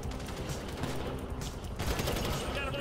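Gunfire in Grand Theft Auto V, a steady dense stream of shots over continuous game noise and music, growing louder near the end.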